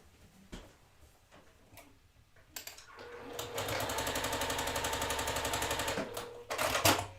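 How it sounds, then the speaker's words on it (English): After some quiet handling noises, a sewing machine stitches a quarter-inch quilt seam, running in a steady, fast, close rattle for about three seconds, then stops, followed by a short final burst. "I'm gonna line up the corners with the square, and I'm gonna sew down 1/4 inch"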